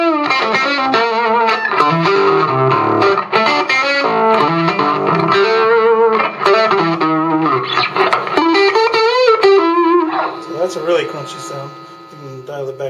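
A Line 6 Spyder II 15-watt guitar amp plays crunchy distorted guitar chords and riffs with effects, loud and continuous throughout, while a voice talks over the playing at times.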